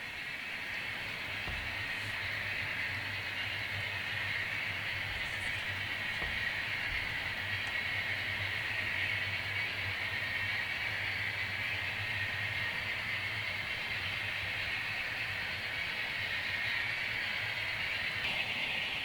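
A freight train rumbles past steadily for a long stretch, with a constant hiss and low rolling drone of wheels on track, fairly close and unbroken.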